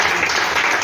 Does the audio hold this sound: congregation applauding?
yes